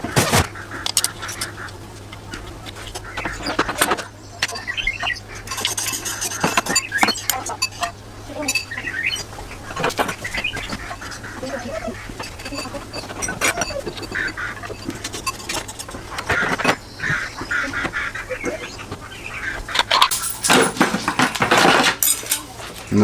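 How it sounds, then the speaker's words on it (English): Steel and friction clutch plates from a Honda CBR 125R clink and chink as the clutch pack is reassembled by hand after soaking in 10W40 racing oil, with scattered metallic taps and rattles amid some speech. "So now I'm just going to assemble the clutch pack out of its marinade of 10W40 Castrol racing oil and then put it all back together."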